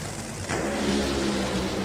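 Top Fuel dragster engine at an NHRA drag race, Tony Stewart's team at the Route 66 NHRA Nationals, a dense, loud, continuous roar that swells sharply after a brief lower rumble and holds steady without a break.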